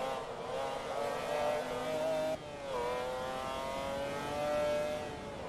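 A McLaren F1 car's engine in the racing game Forza Motorsport 2, revving up steadily, briefly dropping at a gear change, then climbing again, a loud, close, sustained whine with no talk.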